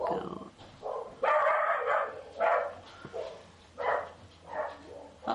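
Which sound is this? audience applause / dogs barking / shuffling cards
dogs barking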